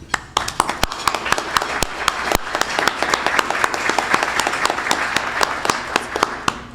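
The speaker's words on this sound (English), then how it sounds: "please hold your applause until the very end" An audience applauds with steady clapping, sharp individual claps standing out over the crowd, sustained for several seconds.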